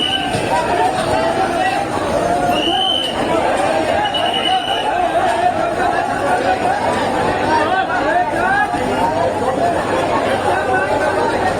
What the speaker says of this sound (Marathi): प्लॅटफॉर्मला गर्दी बघा लोकलसाठी.